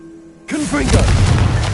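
A Confringo blasting spell in Hogwarts Legacy bursts into a loud booming explosion that starts abruptly after a quiet moment and rumbles on in a broad roar, with swooping magical tones in the opening instant.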